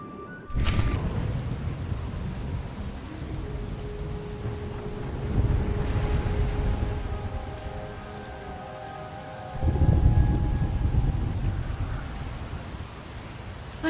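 Heavy rain pours steadily on surfaces in a stormy scene from the video game Star Wars: The Old Republic, with deep rumbles of thunder swelling twice, loud and continuous without talk.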